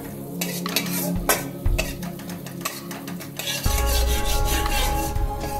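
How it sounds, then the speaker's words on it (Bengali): Whole cumin seeds being stirred in butter in a wok, close scraping and rubbing strokes of a utensil against the pan over a light sizzle, with occasional clinks. "মাখন দিয়ে দিচ্ছি গোটা জিরে, তারপরে নেড়ে নেবো জিরেটা"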